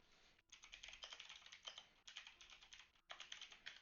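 Close, steady computer keyboard typing in quick bursts of clicks, broken by two short pauses, with no talking over it.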